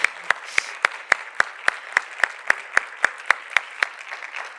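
A single person claps alone at a steady rhythm, about fifteen sharp, evenly spaced claps, close and fairly loud, after a project management presentation at the CLINT 2023 conference.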